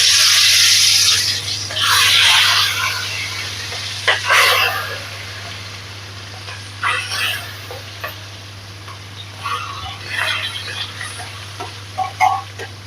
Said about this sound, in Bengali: কড়াইতে সর্ষের তেল গরম করে চিংড়ি মাছগুলো অল্প ভেজে নেব।